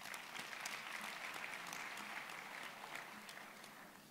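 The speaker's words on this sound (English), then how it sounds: "May I request to give you a big applause for Councillor." An audience at a university graduation ceremony for the Faculty of Engineering applauds a councillor, dense, even clapping held for several seconds, faint and far off, tapering slightly at the end.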